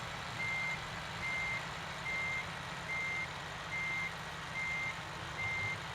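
A truck's reversing beeper repeats a steady beep roughly every 0.8 seconds, fairly faint over a continuous low engine rumble, with no voices.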